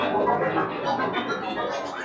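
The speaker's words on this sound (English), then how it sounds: "Then we have this futuristic noise," A futuristic noise preset from a Serum 2 pack plays alone as a dense, steady synthetic wash spanning a wide range, with shifting glassy tones and no speech.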